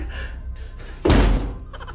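A person thumps hard into a closed door, making a single loud, close slam-like impact that cuts through a quiet room and fades quickly.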